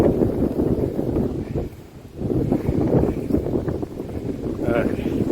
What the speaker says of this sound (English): And you can hear the wind. It's been like this all night.